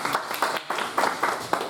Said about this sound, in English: Round of applause, everybody, please.